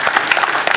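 Audience at a comedy show clapping, a short dense patter of many hands close and loud, with no talk over it.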